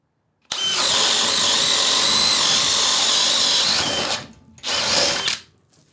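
A DeWalt hammer drill runs at its highest speed setting, a loud, steady high-pitched whine that holds for several seconds, cuts out briefly, then bursts back for about a second before stopping.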